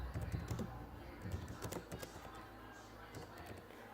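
Typing on a computer keyboard in a vinyl-cutter design program, a quick run of close clicky keystrokes that bunch into bursts and thin out toward the end.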